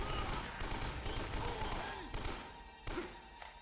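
Gunfire from a shotgun in the video game Uncharted: Drake's Fortune: several loud, close blasts over a dense, noisy game soundscape, with a voice talking over parts of it.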